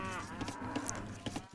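Cows mooing in the Age of Empires video game, a few short, faint lowing calls over soft background game sounds.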